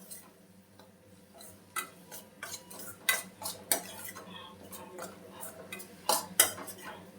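A spoon scrapes and clinks against a pan while Everest chicken masala is mixed into egg curry. The strokes come as irregular metallic taps and scrapes, close by, over a faint sizzle.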